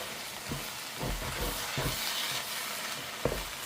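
Onions being sautéed slowly over a low flame in a home kitchen, a steady soft sizzle broken by several dull stirring knocks of a spoon against the pan, with no talking.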